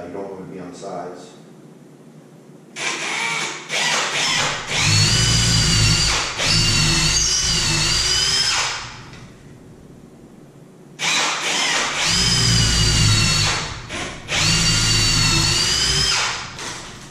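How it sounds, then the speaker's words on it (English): An electric drill fitted with a 7/32-inch bit bores into a wall stud while mounting a TV: two loud, sustained whining runs with rising and falling pitch, separated by a pause. "So we've already loaded our drill up, 7/32 drill bit, and get it ready to drill."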